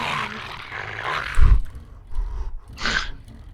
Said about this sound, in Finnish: Kuuluu jo koira.